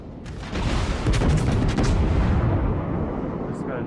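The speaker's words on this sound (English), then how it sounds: "that's that Belfast shooting at me" An enemy Belfast cruiser firing at the player in a naval warship video game, heavy booming gun blasts rolling into a sustained rumble, loud and near, with someone talking over it.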